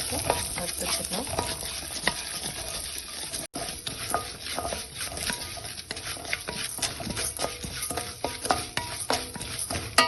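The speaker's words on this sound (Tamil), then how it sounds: "கடலைப்பருப்பும் உளுந்தும் போட்டுருக்கேன். நல்லா வறுத்து எடுத்துக்கோங்க." Chana dal and urad dal roasting in oil make a dense, crackling sizzle, with quick repeated scraping and tapping of a spoon stirring the pan and one brief dropout partway through.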